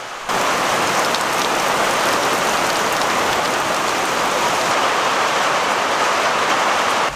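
Steady rain falls throughout, a dense, continuous hiss of drops hitting outdoor surfaces near a garden fence, loud and even with no voices or thunder.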